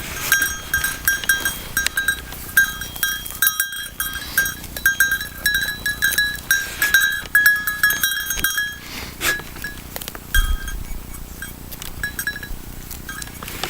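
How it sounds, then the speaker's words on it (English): Goats bleat repeatedly in short, nasal calls over a steady outdoor background in winter, with a faint clink here and there. "like 2 young male and female goats"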